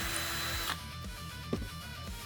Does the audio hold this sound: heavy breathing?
no